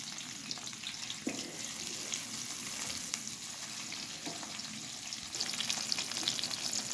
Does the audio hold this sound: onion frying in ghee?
yes